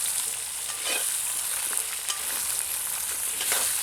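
Chopped ginger and garlic hitting hot oil in a pan for crab masala gravy, making a loud, steady, hissing sizzle throughout, with occasional soft stirring scrapes and no voices.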